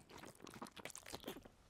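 A character in the video game Kingdom Come: Deliverance eats lard with quick, faint crunching and chewing bites in an irregular rhythm, with no talking.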